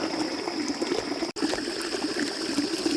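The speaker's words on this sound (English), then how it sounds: "You can hear the hot spring behind me." Natural desert hot spring water flowing steadily at night, a continuous close trickling and gurgling wash with a brief dropout partway through.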